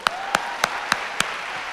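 Five sharp, evenly spaced handclaps in a steady rhythm, crisp and close, with no talk over them.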